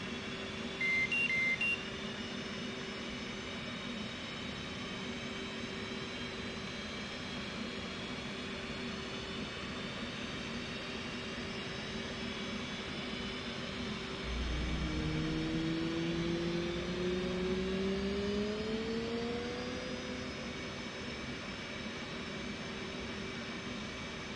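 F/A-18 jet engine spooling up during a start in the DCS flight simulator, a steady turbine whine with rising tones and a few short beeps, alone without talk.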